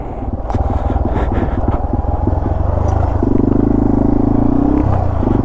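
A Yamaha TW200 dual-sport motorcycle rides a dirt trail on Gold Camp Road, its engine droning steadily and loud and close, with a rising, harder pull in the second half.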